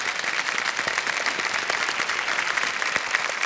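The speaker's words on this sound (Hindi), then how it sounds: "तालियां एक बार फिर बज जाए उनके लिए" A studio audience at a TV quiz show applauds in a dense, even wash of clapping with no voices over it.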